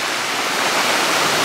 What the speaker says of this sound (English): Here comes a big wave